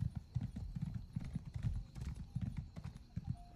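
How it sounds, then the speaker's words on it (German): Clip-clop hoofbeats of a horse ride steadily in Elder Scrolls Online, a close rhythmic trot with a brief whinny, under faint background sound. "Ob ein Pferd manchmal komische Geräusche macht?"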